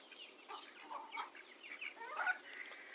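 Chickens and chicks feed alongside ducks, giving soft scattered clucks and thin peeping chirps at close range, quiet and irregular with no talking.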